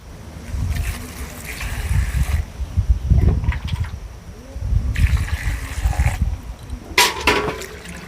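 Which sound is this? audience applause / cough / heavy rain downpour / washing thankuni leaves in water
washing thankuni leaves in water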